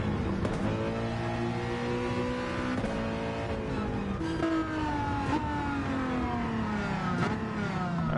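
A hybrid race car in a racing video game, its engine note rising smoothly through several gear changes, a continuous steady whirring tone with no one talking.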